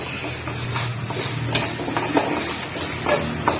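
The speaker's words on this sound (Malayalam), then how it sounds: "ഇത് നമ്മൾ നല്ലതായിട്ടൊന്ന് വഴറ്റിയെടുക്കണം" Ingredients being sautéed in a pan for a Kerala fish curry with tapioca, with a steady sizzle and repeated scraping stirs of a spoon against the pan, close and fairly loud, with no voices.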